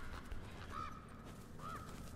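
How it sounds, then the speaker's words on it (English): Crows in The Last of Us: Left Behind, two distinct caws about a second apart over a faint ambient game background, fairly quiet and without speech. "Crows are really annoying."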